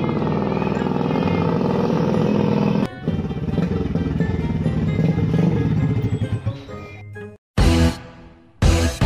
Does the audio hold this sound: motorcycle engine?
yes